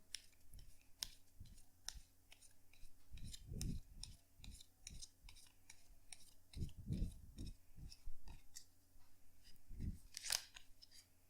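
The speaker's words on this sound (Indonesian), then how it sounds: "kartunya dikocok dulu sebelum kita mulai" Tarot cards are shuffled in quick, crisp riffles and soft slaps, close and quiet, continuing in a steady rhythm with no talk.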